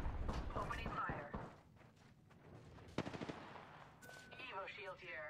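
Automatic gunfire rattles in rapid bursts during a video game firefight, sharp and close, with a voice speaking amid the shots and other game effects.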